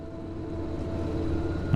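The engine of a car in the video game Pacific Drive idles steadily with a low droning rumble and faint wind-like noise.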